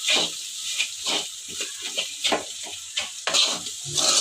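Chili powder being stirred into okra frying in a pan, with steady sizzling hiss and repeated scraping strokes of the stirring spoon, fairly loud and close with no talking.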